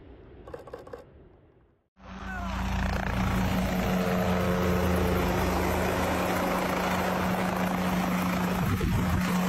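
A helicopter flies with a loud, steady rotor and engine drone and a strong sustained hum, starting abruptly after a short burst of other noise and continuing to the end.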